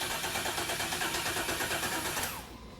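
A Camaro engine cranks on the starter in steady rhythmic pulses, loud and close, with no talk, then the sound drops away near the end.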